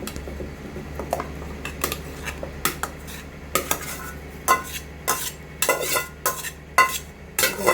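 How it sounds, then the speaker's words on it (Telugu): A spoon stirs and scrapes through a cooking mixture in a metal pot, making repeated clattering knocks that grow louder and more rhythmic over a low steady background hum. "ఇప్పుడు ఈ మిక్స్చర్ని దీనిలో కలిపేయాలి మనం"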